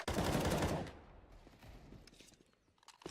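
A loud, dense burst of AK rifle fire in a Counter-Strike esports match on Inferno, close and rapid for under a second, then fading into quieter game ambience and faint footsteps.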